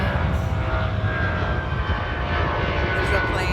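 An airplane passes overhead near the beach in Los Angeles, a loud steady engine drone filling the whole stretch.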